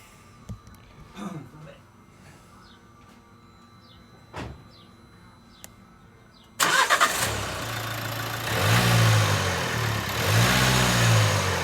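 Nissan Qashqai 1.5 dCi diesel from 2017 with a differential pressure sensor fault, quiet at first with faint clicks, then the engine catches abruptly and runs loud and steady with swelling revs, voices talking nearby.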